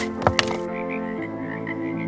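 A frog croaks by a pond in a steady run of low, throaty calls with a few sharp louder croaks near the start, fairly close and alone with no talk.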